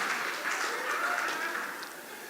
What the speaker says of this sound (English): Applause for this Abraham.